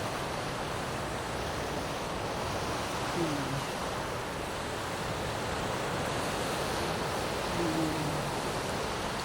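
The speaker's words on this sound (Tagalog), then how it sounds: "Lalakas ng hampas ng alon." Continuous roar of ocean waves breaking on a beach, broad and steady with wind noise, and faint voices briefly audible under the surf.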